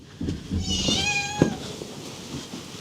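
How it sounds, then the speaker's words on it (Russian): A cat meows once, clearly and close by, in a cheese cellar with soft shuffling and background noise around it. "тут тоже есть охранник кот"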